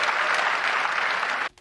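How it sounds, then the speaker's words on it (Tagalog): Crowd clapping at a Filipino rap battle event: a short, full burst of applause from the audience that cuts off sharply near the end. "Isang palakpak muna dyan para pambagana sa amin dalawa"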